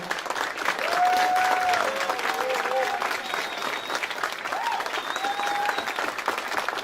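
Steady applause from a dinner audience fills the clip, dense clapping throughout with a few brief whistles or tones over the top.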